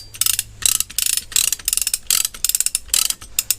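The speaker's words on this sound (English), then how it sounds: "we start ratcheting." A ratchet strap is tightened around a firewood bundle with rapid, close clicking bursts in a steady repeating rhythm, each stroke a quick rattle of pawl clicks with short pauses between.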